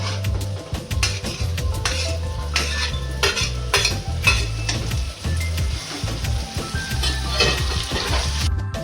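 Tomatoes frying in a pan for egg curry, stirred with a metal utensil: a steady sizzle under repeated scraping and clinking strokes against the pan, close and fairly loud throughout, with no talking.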